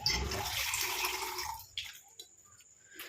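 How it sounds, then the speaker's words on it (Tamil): Water pours into a blender jar holding fresh hibiscus flowers for a hair paste, a steady splashing stream that cuts off after about a second and a half, followed by a few faint drips and clinks. "இப்போ இதில் வந்து தேவையான அளவு தண்ணி ஊற்றிக்கோங்க"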